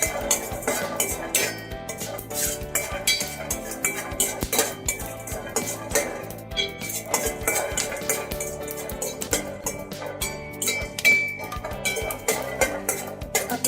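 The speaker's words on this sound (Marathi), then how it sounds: "हे आपण 4 ते 5 मिनिटं क्रिस्पी होऊपर्यंत शेंगदाणा भाजून घ्यायचा आहे।" Peanuts dry-roasting and being stirred in a pan over a low flame, with steady metallic scraping and clinking of a spoon against the pan running throughout, close and moderately soft.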